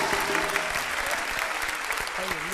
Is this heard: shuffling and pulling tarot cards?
no